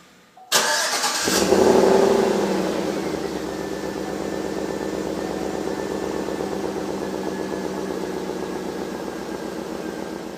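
Cold start of a personal car engine: a sharp starter crank bursts in, the revs flare loudly for a couple of seconds, then settle into a steady, slightly high idle close by with no voices.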